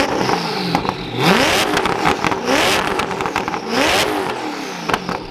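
A Koenigsegg Agera with factory exhaust revs repeatedly, rising and falling in pitch with a raspy exhaust note, loud and close with no one speaking.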